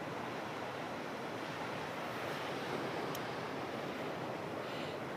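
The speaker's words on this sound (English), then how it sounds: "The waves have receded to swells and maybe 3 to 4 foot waves." Ocean waves and swells at low tide wash steadily in a continuous broadband roar, with wind noise on the microphone and no breaks or voices.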